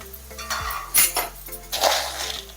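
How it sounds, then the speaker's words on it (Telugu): Chana dal and spices fry in hot oil for mango pulihora, a soft sizzle under sharp clinks and scrapes of a spoon against the pan, with several louder clatters close by. "ఇలా వేగుతున్నాయి కదా, సగం వేగినాయండి."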